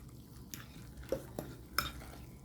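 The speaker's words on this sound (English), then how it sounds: "I'm going to be stirring this up" Mashed potatoes mixed with milk and garlic powder are stirred in a pot, with soft squelching and several light clicks of a utensil against the pot at irregular intervals, close and quiet.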